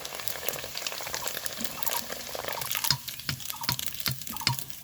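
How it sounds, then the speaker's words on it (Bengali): Sago pearls fry in hot oil with a dense, steady bubbling and crackling, broken by sharp little pops and drips, close up, with no voices. "দেখো কীভাবে ফুটছে সাবুদানাটা"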